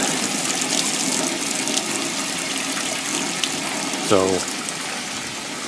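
Hot water runs in a steady, close rush while a 1959 Axeman Anderson 130M is cleaned, and a brief low voice cuts in near the end.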